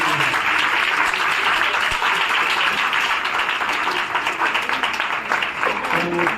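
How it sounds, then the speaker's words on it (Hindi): Loud, sustained applause from a church congregation at a bishop's anniversary celebration, steady and dense throughout with no break. "एक जोरदार ताली हम यीशु के नाम में।"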